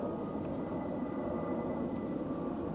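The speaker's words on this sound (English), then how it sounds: "There is a very big plane going overhead right now." A big airplane passes overhead at night in a steady, low, continuous roar, moderately distant and even throughout, with no one speaking.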